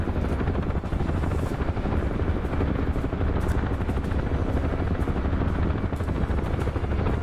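A UH-1 Huey helicopter in a VR combat game, its rotor and turbine roaring loud and continuous with a dense, steady throb throughout and no talking.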